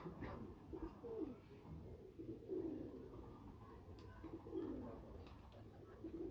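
Breeder pigeons on a rooftop coo faintly and at a distance, their soft, rolling calls recurring every second or so over a low background hum.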